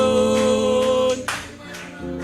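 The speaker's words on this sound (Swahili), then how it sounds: "Msaidieni kwa makofi." A church congregation claps steadily along to a praise song during a night of praise worship, the claps mixed with sustained singing and instruments throughout.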